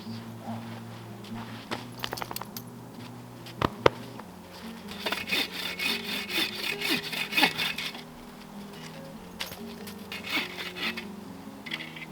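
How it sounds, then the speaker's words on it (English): Hand saw cutting wood outdoors in winter in negative temperatures, with rhythmic back-and-forth rasping strokes close by and some bursts of faster sawing, plus faint rustling and brief voice sounds in the background. "I'm trying to cut wood for us."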